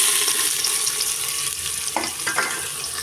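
Chopped onions frying in hot oil in a pot for a potato mutton curry, with a steady bright sizzle throughout, close and loud, and a couple of soft stirring scrapes near the end.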